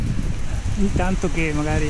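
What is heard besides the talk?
strong wind during a thunderstorm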